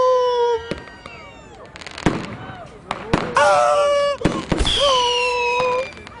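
New Year's Eve fireworks explode in a run of sharp, loud bangs and crackling bursts, several close together, while whistling, shrieking tones rise and fall between them.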